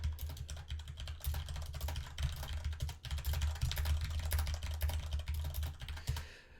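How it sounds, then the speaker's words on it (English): Fast, furious typing on a computer keyboard during a Rocket League match, a dense run of quick clicky keystrokes that is close and fairly quiet, with no talking. "You can hear my furious typing here"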